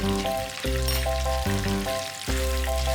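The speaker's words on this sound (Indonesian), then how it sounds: "tambahkan daging ayam yang telah dimarinasi ke dalam wajan penggorengan" Marinated chicken sizzles in butter in a wok, a steady frying hiss that runs throughout beneath prominent tonal background music.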